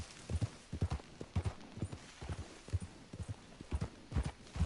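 Horse hooves clip-clopping at a steady walking rhythm in the video game Red Dead Online, close and clear with no voices over them.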